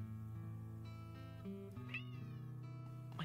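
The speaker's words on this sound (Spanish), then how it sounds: "¿Qué le pasa a mi gato?" A pet cat meows indoors, a drawn-out wavering cry over a steady low background hum, close and clear.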